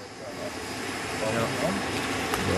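An aircraft flies across the water toward an offshore wind park, its engine a steady droning roar that builds slightly over a few seconds.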